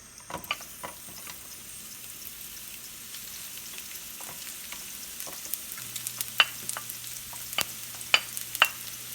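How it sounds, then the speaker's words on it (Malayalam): Chopped shallots sautéing in hot oil in a pan for a Kerala chicken curry, giving a soft continuous sizzle broken by scattered crackles and sharper pops that grow more frequent toward the end, with no talking. "ആ ഓയിലൊന്ന് ചൂടായിട്ട് നമുക്ക് ആദ്യം ചെറുള്ളി അരിഞ്ഞു വെച്ചേക്കണത് ഒന്ന് വഴറ്റാം"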